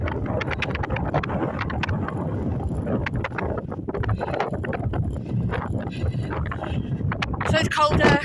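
Wind gusts across the exposed hilltop of Rough Haw, buffeting the microphone with a loud, uneven low rumble and crackle that persists throughout.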